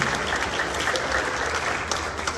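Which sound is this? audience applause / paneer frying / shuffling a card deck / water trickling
audience applause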